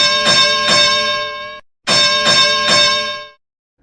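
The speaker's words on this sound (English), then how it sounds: "it's time to ring the bell. So, Joe, ding, ding. Ringing a bell" A bright metallic bell rings out in two bursts, each holding a few quick overlapping strikes that ring on and fade, loud and close, with a short silent gap between them, in a wrestling talk show.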